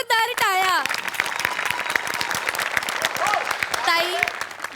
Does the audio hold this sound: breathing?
no